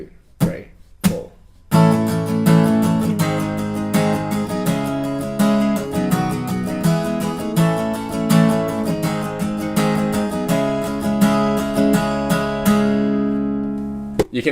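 An acoustic guitar plays the chorus of a song with an alternative strumming pattern, close and bright, after a few count-in taps, with rapid even strokes over changing chords throughout.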